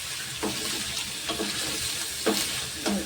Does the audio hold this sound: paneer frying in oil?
yes